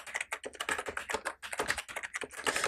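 Rapid, steady keystrokes on a computer keyboard as a new password is entered, close and clear with dense irregular clicking throughout and no talking.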